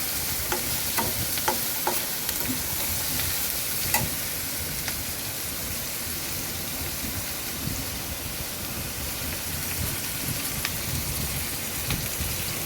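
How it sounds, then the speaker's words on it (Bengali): Onions frying in oil in a pan for a Bengali beef jhura curry, a steady dense sizzle with small crackles and pops throughout, close and fairly loud, with no voices. "পেঁয়াজটাকে ভালোভাবে উল্টিয়ে পাল্টে ভেজে নেব।"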